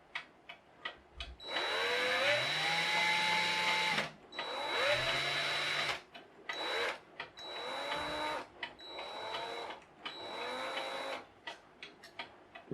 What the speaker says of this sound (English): I've got the shaft in the drill.